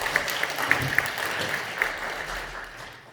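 An indoor audience applauds at the end of a lecture for community resident-autonomy leaders, a steady, dense patter of many hands clapping for about three seconds before it starts to fade.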